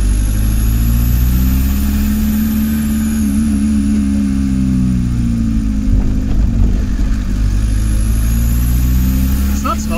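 A VW Camper TDI diesel engine with about 140,000 miles and a suspected injector fault runs steadily at idle, loud and close, its low drone rising and falling slightly in pitch throughout.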